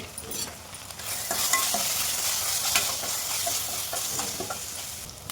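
Masala with salt, chilli powder, garam masala and chicken masala sizzles in a pan for a vanjaram fish curry, a spoon stirring and scraping through the loud, steady frying hiss close up.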